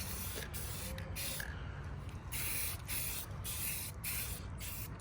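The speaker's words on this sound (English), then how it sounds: "I'm just spraying." Bursts of an aerosol spray can painting homemade car side skirts for a Pontiac G8, a close hiss repeated in about eight short blasts separated by brief gaps.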